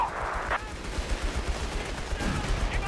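Machine gun fire in the strategy game Company of Heroes 3 rattles as rapid, low thudding bursts through the battle mix, with a commentator's voice heard briefly over it.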